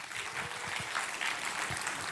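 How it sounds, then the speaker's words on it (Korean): A church congregation claps in a steady, dense applause that carries at moderate distance and even level for the whole stretch. "우리 박수 한번 하실까요?"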